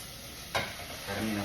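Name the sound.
beef sizzling as it is added to onion and ginger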